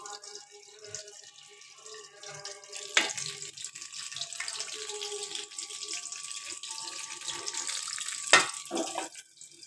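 Battered eggplant slices coated in a flour mix with salt, pepper and nigella seeds fry in hot oil, giving a steady, close crackling sizzle with a couple of louder bursts and no talking.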